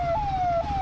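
A wailing ambulance siren in road traffic, heard from a motorcycle on a highway ride, a loud steady tone that sweeps slowly and dominates the moment with no voices over it.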